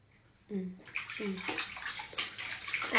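A baby kicking and splashing in bath water, with a few brief infant vocal sounds at first, then repeated close, lively splashes and sloshes.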